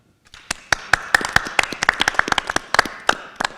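Sparse, uneven hand claps at a town hall meeting for the St. Louis Board of Police Commissioners, a few dozen sharp claps from a modest crowd, close and fairly loud, swelling briefly then thinning out.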